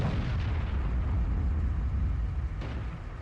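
A heavy tank-gun blast booms in a World of Tanks battle as a Crusader SP artillery vehicle is hit, a loud, dense low rumble filling the whole moment with a slight sharper crack near the end, no talk.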